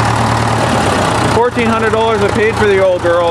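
An old tractor engine idling with a steady low rumble, loud and close, while someone talks over it throughout.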